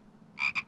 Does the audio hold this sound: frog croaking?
yes